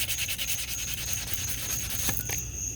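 Sandpaper rubbed by hand over primer on the curved spoke edges of a 2004 Saturn VUE Redline wheel, a steady back-and-forth scratchy rasp running close and continuous, with a brief sharper scrape near the end.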